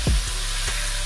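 Boneless pork chops sizzle steadily in a hot pan, a loud close hiss with a brief clatter near the start.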